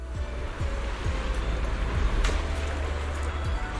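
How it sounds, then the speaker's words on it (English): Ocean waves from the video game Zenless Zone Zero wash steadily onto a shore, a continuous surf roar with soft repeated low thumps, close and moderately loud with no talking. "Enjoy the sound of the waves."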